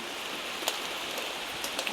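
Heavy rain falls steadily outdoors as a soft, even wash of drops with occasional sharper splashes, fairly faint and continuous, with no voices.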